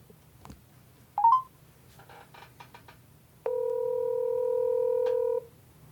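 A mobile phone number being dialed for a call: a few quick key tones, then a long steady ringback tone close up, with no voices.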